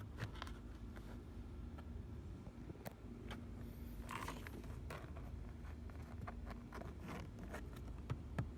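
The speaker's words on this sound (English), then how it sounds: "So I'm just pulling it up and feeding it underneath that plastic trim." Plastic trim on a 2013-20 Ford Escape creaks and rustles as a thin dash cam cable is pushed underneath it: faint, close, irregular scrapes and ticks over a low, steady hum.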